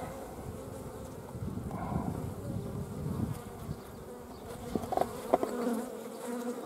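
A steady, close buzzing of honey bees on brood comb where a drone cell has been uncapped and varroa mites are emerging, a continuous insect drone with occasional louder passes near the end and no talk.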